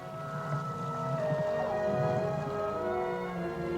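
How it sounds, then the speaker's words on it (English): Whale song heard underwater, long drawn-out tonal moans and rising, falling wails layered over a steady hiss of the sea, loud and continuous. "the songs of the whales be heard throughout the sea"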